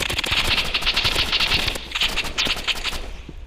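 Rapid automatic gunfire in the Roblox Rivals shooter game rattles off in dense bursts, loud and continuous, with a brief lull near the middle before more shots follow.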